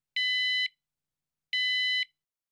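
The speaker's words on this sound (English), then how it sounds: "The alarm will sound in the ascending tones." A van pipe carrier security alarm sounds two loud electronic tones, each about half a second long, separated by a clear pause in silence.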